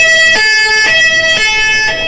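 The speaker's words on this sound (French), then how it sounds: "Une ambulance qui fonce aux urgences, puis d'autres qui suivent, toutes sirènes hurlantes" An ambulance siren sounds loud and close as it rushes toward a hospital emergency department, its two-tone wail switching pitch about every half second with a steady engine rumble underneath.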